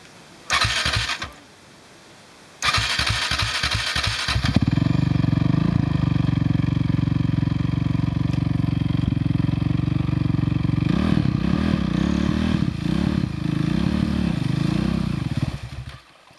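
A motorcycle engine cranks in two short bursts, then catches and runs loud and close, revving up and down in uneven surges for about twelve seconds before cutting off.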